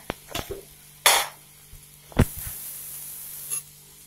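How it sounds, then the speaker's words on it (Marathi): Onion garlic masala fries in hot oil, with a faint low sizzle broken by a few separate bursts of hissing spatter and light knocks of a spoon against the pan. "कांदा लसूण मसाला चांगला तेलात परतून घ्यायचा."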